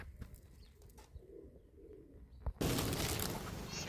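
Pigeons at a bird house flutter and coo at low level, then a sudden burst of many wings flapping as the flock takes off close by, loud and sustained to the end.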